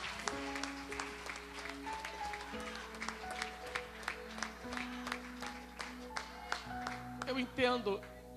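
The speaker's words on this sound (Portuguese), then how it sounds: "Quantos aplaudam Jesus pelo seu sacrifício nessa noite?" A church congregation claps at a service, a faint, scattered patter under a speaking voice and sustained background tones.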